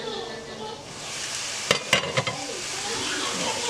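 Chinese rice dish sizzling in a hot pan with steady frying hiss, broken by a few sharp clanks of a utensil stirring against the pan.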